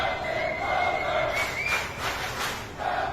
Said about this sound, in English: a cheering crowd of sailors aboard USS Theodore Roosevelt saying their goodbye to their captain